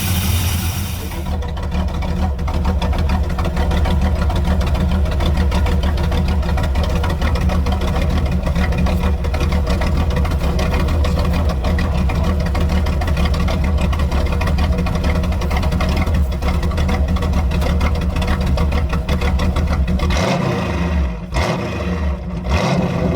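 A 1973 Chevy Camaro split-bumper that sat for at least ten years idles after a cold start, a loud steady rumbling engine running throughout before a few revving surges near the end.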